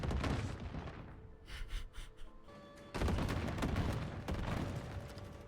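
Rocket launcher fire in the mech combat game MechWarrior 4: dense, rumbling bursts of booming weapon fire and explosions, loud and sustained, with a brief lull in the middle before another heavy volley.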